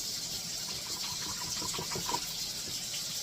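Chicken broth pours into a skillet with a soft, steady gush of liquid, close and quiet, and no one speaks.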